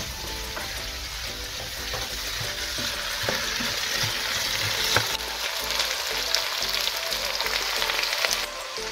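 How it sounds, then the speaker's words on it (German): Potatoes frying in oil in a kazan, a continuous close sizzle broken by repeated scraping and clanking as the pieces are stirred. "immer wieder halt leicht umrühren, dass die Kartoffeln nicht zubereitet werden, sondern wirklich leicht angebraten werden"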